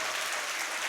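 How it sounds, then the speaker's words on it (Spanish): A church congregation applauds during a Sunday service: a dense, even burst of many hands clapping together, heard only briefly and filling the room. "Dele un fuerte aplauso al Señor."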